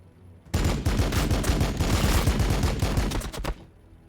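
Rapid automatic gunfire rattles in a dense three-second burst in the Warhammer 40k Battlesector strategy game, loud and close, cutting in sharply and stopping abruptly, with no voices.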